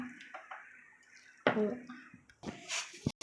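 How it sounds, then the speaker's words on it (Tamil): Water splashes and trickles into a container in short bursts while cooking Karnataka sambar rice, with clinks of a vessel and quiet household sounds around it. "எங்களுக்கு கொஞ்சம் தண்ணி ஊற்றிக்க போகிறோம்"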